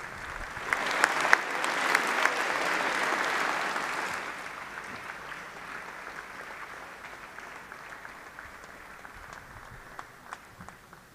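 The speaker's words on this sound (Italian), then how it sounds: "Un applauso per la straordinaria prestazione" A crowd applauds at a Palazzo Chigi ceremony honouring Matteo Berrettini's Wimbledon performance, with a dense wash of clapping that is strongest at first and then tapers to a softer, steady patter. No one speaks.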